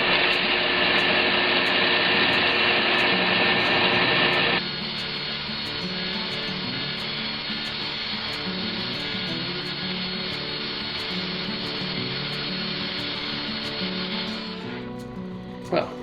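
A power sander tapers a wooden crankbait lure for crappie, a steady close grinding whir that starts loud, drops to a lower continuous hum partway through and fades near the end.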